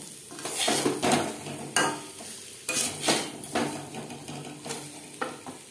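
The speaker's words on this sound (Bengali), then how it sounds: "আলু হালকা করে ভেজে নেব।" Potato pieces seasoned with salt and turmeric are lightly fried in a pan for aloo chicken, a soft sizzle broken by repeated scraping and clinking of a spatula against the metal pan, with no talking.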